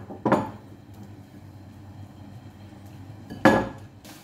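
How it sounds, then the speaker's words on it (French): A potato patty pressed flat in a frying pan, heard as two sharp metallic clanks of utensil against pan about three seconds apart over a low steady kitchen background. "Et une fois dans la poêle, je viens l'aplatir."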